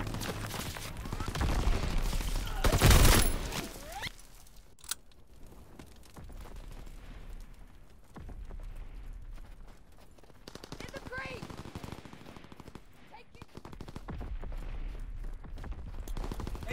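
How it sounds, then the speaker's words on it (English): Aircraft machine-gun strafing fire in the Call of Duty: WWII video game, a loud burst of rapid gunfire early on, then scattered distant shots and battle noise under intermittent game voice lines. "Call for a strafing run!"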